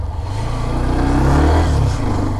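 Hero Xtreme 125R motorcycle riding along a road, its mid-pitched engine droning loud and close with a steady, slightly rising pull throughout.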